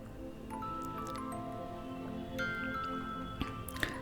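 Soybean and potato curry simmering in a pot on medium heat, giving a soft, steady bubbling with occasional little pops and drips, fairly faint and alone without voices.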